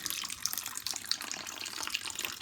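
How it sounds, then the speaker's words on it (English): Water is poured quietly around a bonsai planting disc, with a soft, continuous splashing trickle close by. "So it's kind of strange, you've got to pour it around it"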